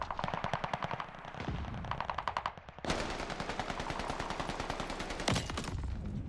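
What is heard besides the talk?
gunfire in video game Call of Duty Vanguard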